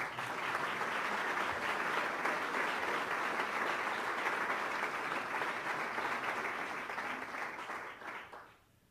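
Audience applauding at a scholarship awards ceremony, steady sustained clapping from a crowd at moderate volume that fades out at the end.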